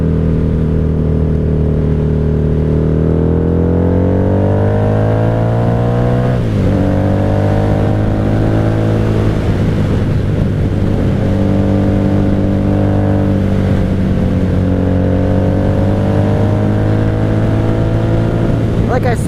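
A 1997 Honda Magna 750 VF750C V4 motorcycle with a Vance Hines exhaust, ridden on a cold day, roars loudly as revs climb, drops sharply on a downshift, then pulls again in a steady, close drone.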